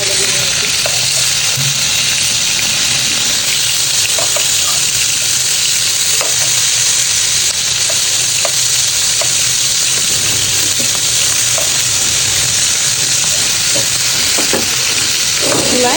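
Chicken pieces sizzle loudly in a hot pan on a stove and are stirred, giving a dense, continuous frying hiss with scattered scraping clicks, close up and steady throughout, with no talk.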